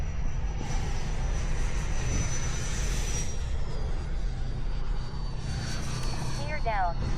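An FMS Pilatus PC-21 model airplane flies in to land, its electric propeller whine rising and falling as it passes at moderate distance, continuous with a short voice near the end.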